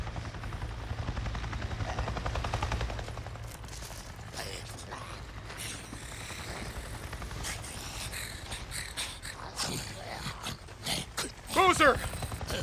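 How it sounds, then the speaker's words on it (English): Helicopter flying overhead in the video game Days Gone, a steady rotor drone that fades after a few seconds, followed by scattered clatter and a brief mechanical burst near the end. "I just saw a goddamn chopper!"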